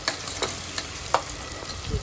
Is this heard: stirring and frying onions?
yes